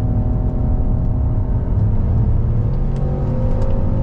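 A 2022 Genesis GV70 sport SUV accelerates with a strong, close engine rumble and whirring drivetrain, the pitch climbing and settling as the transmission shifts, with no talking over it.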